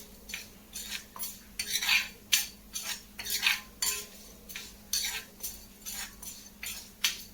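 Toor dal roasting dry in a pan, stirred with a utensil that scrapes and clinks against the metal in steady repeated strokes, close and moderately loud with no talking.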